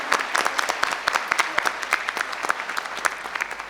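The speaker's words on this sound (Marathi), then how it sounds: "सर्व विद्यार्थ्यांचे जोरदार टाळ्या वाजून आपण त्यांचे आभार मानत आहोत" An audience at a school annual day claps for student performers, a lively crowd of hands with distinct sharp claps scattered through a sustained, moderately loud patter, no talking.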